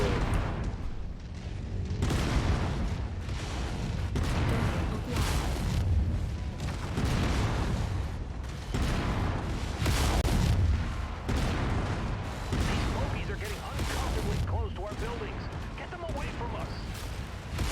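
Mech weapons fire in MechWarrior 5: Mercenaries, modded with Merctech 2.0, as repeated loud booming bursts and rapid gunfire over a dense, continuous battle roar, with talk mixed in.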